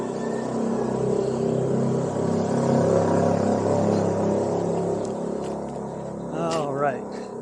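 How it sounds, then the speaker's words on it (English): Motorcycles rumble past in the early Sunday morning at a house construction site in the Philippines, a steady droning engine wash that swells and fades, with a brief rising whine near the end. "you can hear the motorcycles already early in the morning"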